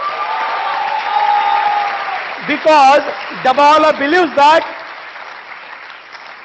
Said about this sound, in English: as you are giving claps